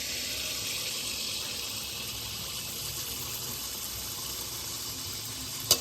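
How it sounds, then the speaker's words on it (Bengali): Malpua batter made from dried rice flour and jaggery fries in hot oil, giving a steady loud sizzle and hiss that runs unbroken throughout. "মালপোয়াটা ভেজে নিচ্ছি।"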